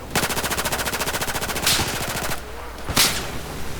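Rapid automatic gunfire in Battlefield 4 on the Paracel Storm map, a fast close burst of about a dozen and a half shots, then two single loud cracks.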